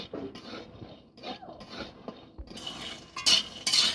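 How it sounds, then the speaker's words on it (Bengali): Peanuts in their shells being lightly dry-roasted and stirred in a wok at home, soft scraping and rattling with a few sharper clinks near the end, fairly quiet and close. "বাদামটা আমি কড়ার মধ্যে হালকা করে ভেজে নেবো"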